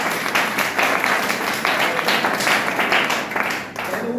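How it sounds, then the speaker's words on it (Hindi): An audience claps loudly for first-time attendees at a closing session, a continuous, close, evenly sustained burst of many hands with no talking over it. "एक बार मैं चाहूँगा नए लोगों के लिए जोरदार तालियां"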